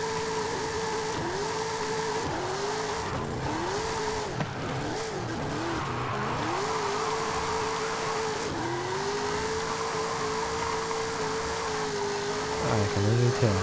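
A Toyota Tacoma TRD drift build in a video game roars with a sustained, wavering engine note as it revs up and down through the drift, with a tire squeal rising near the end and no voices.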